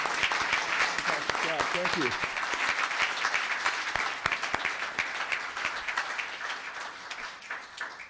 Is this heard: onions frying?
no